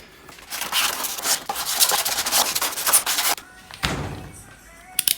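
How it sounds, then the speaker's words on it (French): Close, steady rubbing and scraping as a motorcycle fairing surface is scuffed rough to take fiberglass and resin, with dense abrasive strokes, a brief pause and a few sharp knocks near the end. "Je vais encore la griffer un petit peu."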